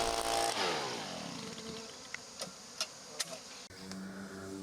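A small leaf-style blower used to clear bees out of honey supers roars briefly up close, then its motor whine slides down and winds off, followed by a few sharp clicks and taps.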